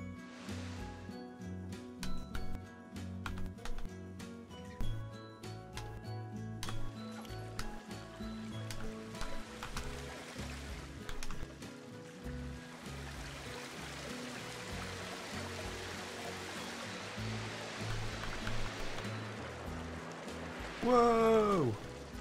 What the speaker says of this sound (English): I think we've got our first waterfall area and some trees.